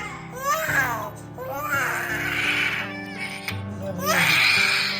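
A child cries loudly during an ear piercing at a jewellery shop, with rising wails in several bursts, close and distressed, while adults talk around.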